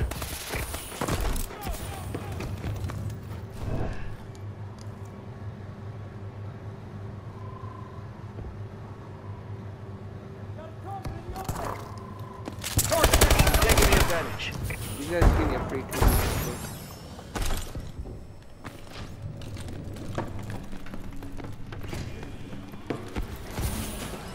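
Suppressed ASM1 assault rifle in Call of Duty: Advanced Warfare team deathmatch, muffled rapid bursts of gunfire clustered mid-clip amid footsteps and game noise, with a voice talking throughout.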